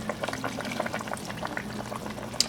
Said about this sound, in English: Now I'm going to add the coconut milk.